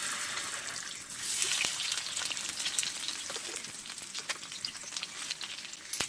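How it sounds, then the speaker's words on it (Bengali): Snacks frying in lightly heated white oil over a lowered gas flame, a steady dense crackling sizzle with scattered sharper pops, close and continuous with no talking. "নাস্তাগুলো আমি গ্যাসের ফ্লেমটা কমিয়ে ভেজে নেব"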